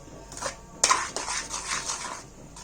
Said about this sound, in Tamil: கெட்டி கெட்டியா ஆகாம நல்லா இப்படி கிளறி விடணும்